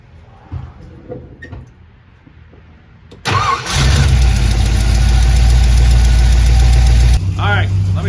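A 1955 Ford 292 Y-block V8 with a Summit 500 cfm carburetor and electric choke cranks briefly, fires and settles into a loud, steady idle that drops in level near the end, after someone speaks over quiet shop sounds.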